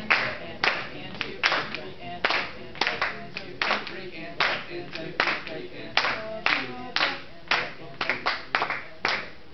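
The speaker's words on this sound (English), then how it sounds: "Your clapping was good though." High school trombone students clap a rhythm together during a sectional, sharp unison claps in repeated syncopated groups, close and loud, continuing steadily for the whole stretch.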